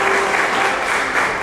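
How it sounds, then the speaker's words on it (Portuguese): A congregation at a church service breaks into loud, dense applause, a continuous wash of many hands clapping close by with no speech over it. "Uma salva de palmas que você entendeu tudo."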